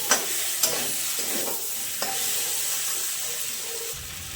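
Potato and pointed gourd curry sizzles loudly in a pan and is stirred with a few scraping knocks, a close, continuous frying hiss with a brief burst near the end as water is added.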